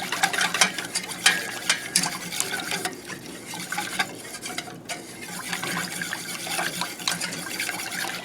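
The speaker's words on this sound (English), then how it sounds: "And then you want to whisk it to get all the lumps out." A whisk scrapes and rattles quickly against a bowl while mixing lasagna sauce to break up lumps, a busy, irregular clatter with a wet, sloshing texture, close by and continuous.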